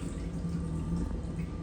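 Hands wash ghee in a basin of water, giving a steady wet sloshing with soft drips. The sound runs continuously at low level through the whole short stretch.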